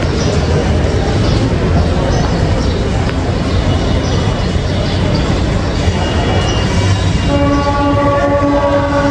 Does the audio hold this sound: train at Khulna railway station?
yes